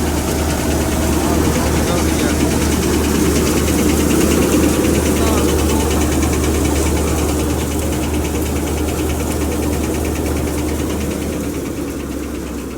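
A tractor engine runs steadily with a low, continuous rumble and faint knocking, loud and close; someone speaks over it.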